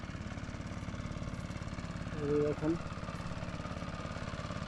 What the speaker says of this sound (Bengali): নদী দিয়ে অবশ্য নৌকা যাচ্ছে দেখেন